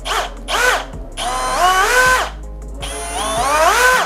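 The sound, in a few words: Bosch GSR 185-Li cordless drill running at variable speed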